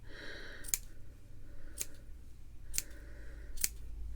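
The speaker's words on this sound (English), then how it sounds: "we're going to take the end and just start trimming a little bit till it feels nice and even" Scissors snip yarn hair on a crocheted amigurumi doll, four crisp, separate cuts spaced about a second apart, close and distinct against quiet background hum.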